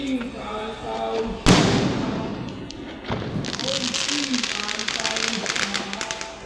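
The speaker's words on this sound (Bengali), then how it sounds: "চারিদিকে দেখো এত বাজি ফাটছে" Diwali firecrackers burst nearby with a sharp loud bang, then a crackling spray and scattered pops continue in the distance while a person talks over the noise.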